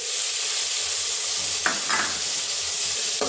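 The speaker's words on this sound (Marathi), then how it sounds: "बारीक चिरलेला कांदा घालत आहे." Finely chopped onion sizzles in hot oil in a kadai, a steady close hiss of frying with a couple of brief stirring scrapes near the middle.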